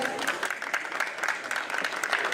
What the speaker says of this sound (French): Un applaudissement pour Monjia.